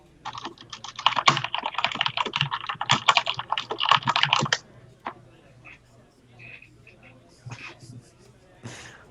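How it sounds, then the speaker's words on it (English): Fast, close computer keyboard typing clatters for about four seconds, then stops, leaving faint scattered clicks and quiet background sound. "Anuraag typing."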